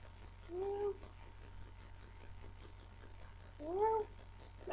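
A person imitates a cat's meow twice, a short nasal call early and another a few seconds later, over a low steady hum.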